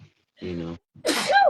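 A single loud, close sneeze bursts out after a brief hum and short pause, with people talking around it.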